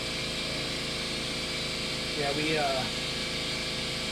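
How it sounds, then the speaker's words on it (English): Loud air compressor running nonstop indoors, a dense steady mechanical drone filling the room while someone talks over it. "Apologize for the loud air compressor."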